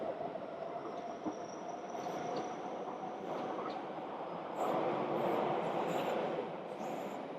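A train rumbles past the Green Spine along the Yew Tee Lifestyle Corridor, steady broad roar, faint rhythmic wheel clatter and a high squeal rising now and then; no voices.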